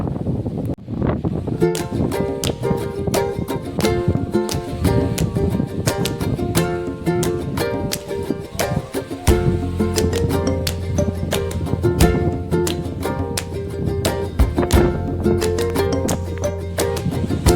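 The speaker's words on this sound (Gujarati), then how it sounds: "તો માથે અહીં બહુ પવન આવે છે" Strong wind buffets the microphone continuously, roaring and rumbling throughout, with a steady low drone and scattered clicks mixed in.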